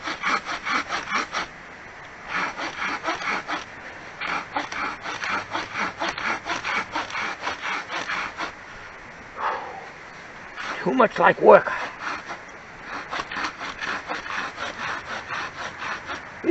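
Hand saw cutting through sound, hard, non-rotten wood held underfoot, with steady rhythmic rasping strokes close by, a few pauses between bursts, and a man's brief spoken remarks and panting.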